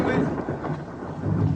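Steady rain with a low, rumbling storm roar, dense and continuous over the brief stretch, with no clear voices.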